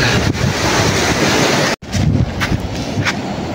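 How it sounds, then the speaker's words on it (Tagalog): Loud, steady wash of seaside waves at low tide with strong wind buffeting the microphone, continuous and close, broken only by a brief dropout midway. "dito na tayo sa sa tabing dagat"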